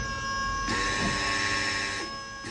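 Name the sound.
car brake vacuum pump cycling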